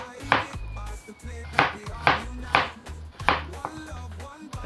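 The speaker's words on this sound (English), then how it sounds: "I'm cutting 2 carrots at a time" Five evenly spaced knife strokes chop through carrots, two at a time, each a sharp close thunk on a cutting board, heard alone in a quiet kitchen.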